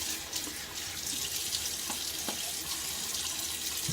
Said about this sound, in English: Another splash of water on my face.